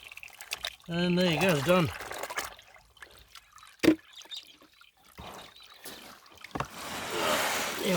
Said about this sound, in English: You just roll it backwards in the water.